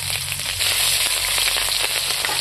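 Bay leaf and green chili frying in hot oil in a wok for a village-style Bengali cauliflower and paneer curry, giving a steady, close, loud sizzle with scattered crackles and no talk.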